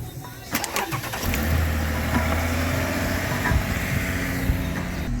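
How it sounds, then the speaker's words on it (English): Lexus or Toyota car engine cranked and started in a workshop during a brake flush and master cylinder replacement, a few clicks, a short starter whir, then a steady idle close by. "So I'll have the car started up. Please start the car up."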